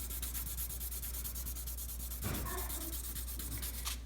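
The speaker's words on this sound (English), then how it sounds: "rub all over the back with a pencil" A pencil rubs back and forth over the back of a sheet of paper, a close, steady scratchy shading sound with quick repeated strokes and a low electrical hum underneath.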